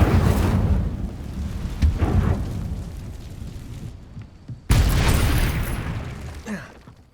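A fire spell cast in the Hogwarts Legacy video game erupts with a loud roaring whoosh and crackling blast, fading out and then bursting again in a second powerful wave.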